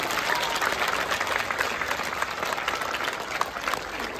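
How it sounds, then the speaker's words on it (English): Crowd at a campus pooja ceremony claps in a loud, continuous burst of applause celebrating a state second-rank result, sustained evenly from start to finish. "Big round of applause."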